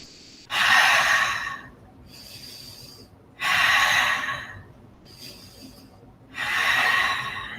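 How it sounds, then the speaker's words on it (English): Deep breathing during yoga practice, three loud breathy exhales at a slow, even rhythm, each followed by a quieter inhale, close and without talk. "Breathing."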